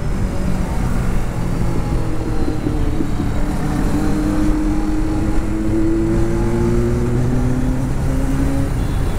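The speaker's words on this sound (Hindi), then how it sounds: "पीछे से बहुत ही प्यारा साउंड उठाता है बाइक का" A Kawasaki Ninja 650 sport motorcycle engine drones steadily while riding on a street, with rising and falling tones as it revs under constant road and wind rumble.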